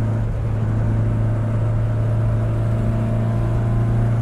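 A Fiat 127 engine runs loud and close with a steady droning hum and strong low tones, echoing in an enclosed space, with no talk over it.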